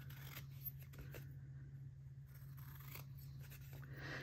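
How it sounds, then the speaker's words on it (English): Scissors trim fabric corners in a few quiet close snips and slides over a low steady hum, with no voices. "now what we want to do is we want to trim the corners"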